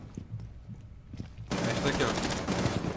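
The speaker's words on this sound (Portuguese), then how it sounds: "ele tá trocando tiro com os caras aí" Gunfire exchange in the video game Rainbow Six Siege: scattered single shots at first, then a sustained burst of rapid automatic fire that fills the second half, loud and close.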